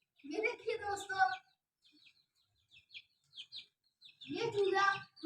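Young chicks chirp in quick, soft peeps between two stretches of close talking, faint and scattered in the quiet middle.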